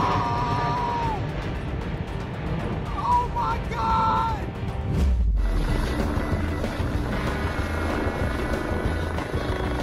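A helicopter flies nearby, its steady rotor and engine drone running throughout with a sharp crackle midway, while a voice speaks faintly beneath it.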